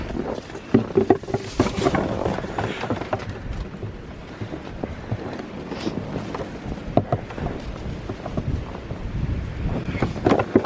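Steady outdoor wind buffeting the microphone in bursts and gusts over a continuous rushing roar, with faint knocks in the background and no voices.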